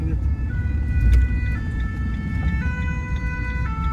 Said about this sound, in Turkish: Ambulans mı geliyor canım? Bir ses var.